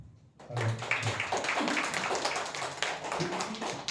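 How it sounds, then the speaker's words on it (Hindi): A church congregation claps together during a Hindi-language Sunday worship service, a dense burst of hand claps that starts abruptly and holds steady and fairly loud for several seconds. "और अपने लिए भी ताली बजा सकते हो आप।"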